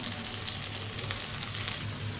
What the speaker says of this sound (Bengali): বন্ধুরা যতক্ষণ পটলটা ভাজা হচ্ছে